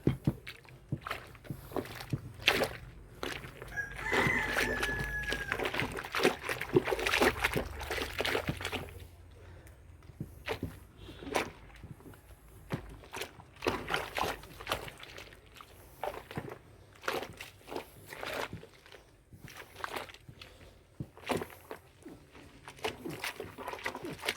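A thick blanket trampled underfoot in water to wash it, giving repeated wet sloshing and squelching steps, close and fairly busy, with water splashing throughout.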